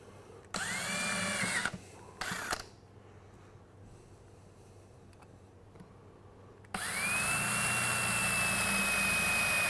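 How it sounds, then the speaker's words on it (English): A drill bores out the separator plate on a Ford C4 transmission valve body, with two short whining bursts, then a pause, then a long, steady, loud run near at hand. "next step is to drill out the separator plate"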